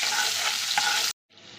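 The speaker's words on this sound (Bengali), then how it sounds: "লবণ হলুদ দিয়ে আলুটা ভালোভাবে কষিয়ে নিয়েছি" Potato pieces sizzle in a hot pan with salt and turmeric as they are stirred, a loud, close frying hiss that cuts off abruptly, then resumes more softly after a short silence.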